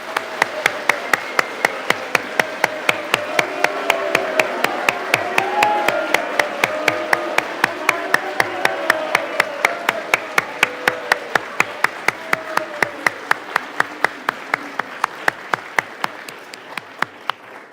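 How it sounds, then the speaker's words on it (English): Cadets at a Civil Air Patrol awards ceremony receive sustained audience applause, a long wash of crowd clapping with a sharp, regular, loud tapping beat running through it from start to finish. "Congratulations to these cadets. Let's get a round of applause."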